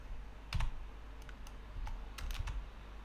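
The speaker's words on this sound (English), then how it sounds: "Try typing the letter P in the Tcl shell" Quiet, sparse keystrokes on a computer keyboard while typing in a Tcl shell, a handful of soft, separate clicks over a low steady background hum.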